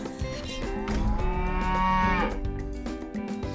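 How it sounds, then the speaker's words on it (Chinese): A deep, drawn-out bovine moo from an African buffalo in the Serengeti, loud and close, with low rumbling and some background noise around it. "水牛 buffalo， 非洲舞霸又集齐一个"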